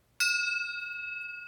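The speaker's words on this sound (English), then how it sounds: "Brass old bells." An old brass bell is struck once, giving a bright ringing strike whose clear overtones sustain and slowly decay, close by in a quiet room.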